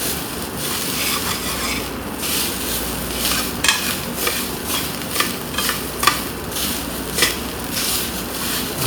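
Cha siu fried rice sizzling steadily in a pan, with repeated scraping and clinking strokes of a utensil stirring it at close range; no talk.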